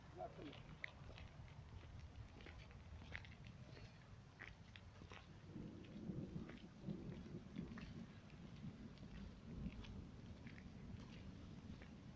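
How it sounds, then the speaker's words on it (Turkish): Steady rain with low rumbling thunder rolling underneath, a dense continuous wash of sound with scattered sharper drops. "Yağmur geldi."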